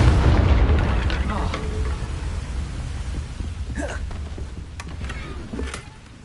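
A Confringo fire spell exploding in a video game: a loud, deep rumbling blast at the start that slowly fades into a crackling, debris-like tail, with some faint voice-like sounds mixed in.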